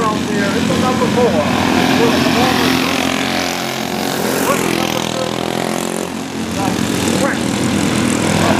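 Race car engines at a racetrack in Maine, a loud continuous roar and drone of several engines under full throttle, steady with slight swells and dips throughout, no talk over it.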